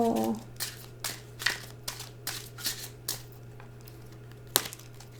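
Repeated riffle-and-shuffle bursts of tarot cards, about six quick crisp flutters spaced irregularly, close up, with a steady low hum underneath.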